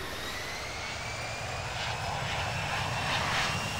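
A Gulf Air airliner in a flight simulator game goes to full throttle for takeoff, producing a loud, steady engine roar with a rising whine that swells slightly toward the end.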